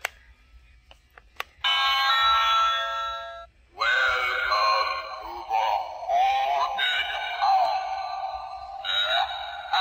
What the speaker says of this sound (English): Talking doorbell.